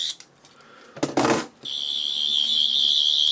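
A Twelfth Doctor sonic screwdriver toy from Doctor Who clicks, gives a brief harsh burst, then holds a loud, steady high electronic whine to the end.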